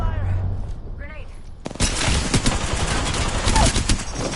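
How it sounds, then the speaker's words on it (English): Dense, sustained video game gunfire erupts after a quieter opening of chirping effects and continues steadily to the end, with a voice speaking briefly early on. "Taking fire."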